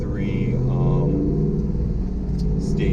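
Pontiac Trans Am WS6 with a BTR stage 3 cam, Kooks headers and a manual gearbox, its V8 holding a steady, loud, deep exhaust rumble close by throughout, with no clear revs.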